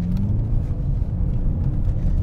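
A 2013 BMW M6 Coupe with 85K miles accelerates hard, its engine a loud, deep, steady roar heard from inside the cabin under continuous road rumble, with no voices.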